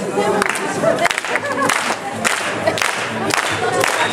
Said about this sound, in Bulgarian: Сега, имаме нужда от вашите ръкопляскания, ето така.